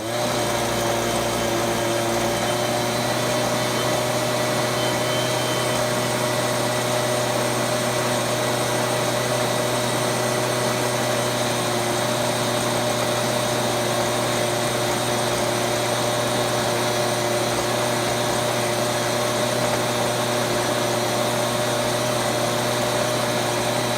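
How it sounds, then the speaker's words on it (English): A Stihl BG86 commercial-grade handheld leaf blower runs continuously with a steady, high-pitched engine whine and rushing air, close and unbroken throughout, with no talking. "the BG86. It's a commercial grade handheld blower, and they say it puts out more air."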